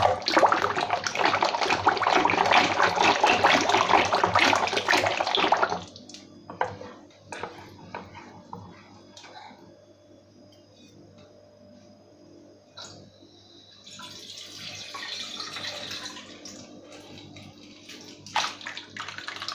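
Water pours forcefully into crushed raw mango pulp for panha, a loud steady gush for about five seconds, then quiet drips and clinks, with a softer pouring stream returning near the end.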